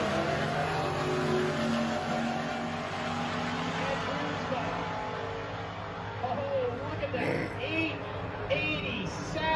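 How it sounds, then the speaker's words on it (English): Sprint cars in a drag race with a rolling start, producing a loud, continuous engine roar throughout, with people talking over it. "this is a sprint car drag race. They give them a rolling start and then they let them go at it"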